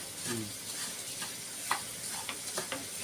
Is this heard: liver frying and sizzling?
yes